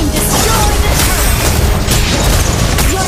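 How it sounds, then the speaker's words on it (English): A turret is destroyed in Mobile Legends: Bang Bang with a dense, loud booming crash that fills the whole moment, a busy wash of battle effects with no pause. "Your team destroyed the turret!"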